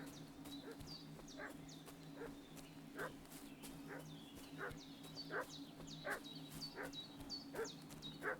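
Dog barking in Kingdom Come: Deliverance II, a steady run of sharp barks repeating at a regular pace against an outdoor background hum with buzzing insects, moderately distant.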